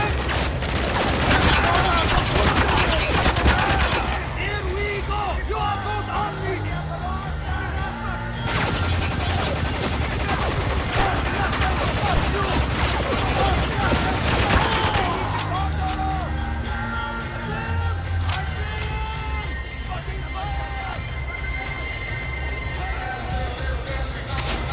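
Sustained heavy turret gunfire in the shooter game Spec Ops: The Line, with long dense bursts of rapid shots and crackling impacts, loud and continuous, with voices talking over the battle.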